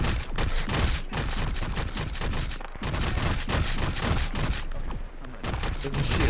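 Heavy gunfire from a shootout in the ARMA 3 Half-Life mod, with dense overlapping volleys and rapid automatic bursts rolling on almost without pause. Loud and sustained, with brief dips between barrages.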